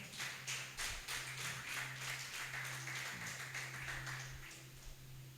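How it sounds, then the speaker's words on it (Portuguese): A church congregation claps steadily in a room, rapid overlapping hand claps with a low electrical hum underneath, fairly faint and distant. "Você pode aplaudir bem forte o nome do Senhor"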